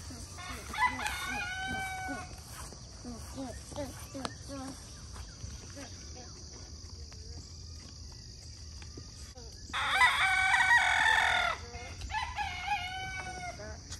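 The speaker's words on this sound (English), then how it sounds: "It's father and son crowing." Two roosters, an adult and its young son, crow on a farm in a few loud, drawn-out calls: one early and a stronger, nearer one near the end, with quieter clucking and background activity between.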